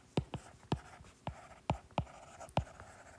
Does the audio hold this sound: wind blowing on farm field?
no